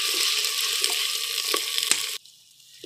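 Garlic, ginger and green chili pounded together sizzle in a pan, browning in oil with a steady loud hiss and a few sharp crackles before the sound cuts off abruptly near the end.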